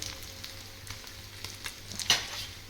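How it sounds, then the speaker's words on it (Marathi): Mandeli fish fry in a pan for a Malvani recipe, giving a steady crackling sizzle with scattered pops and one sharper spit near the end, close and alone. "चांगले फ्राय व्हायला पाहिजे."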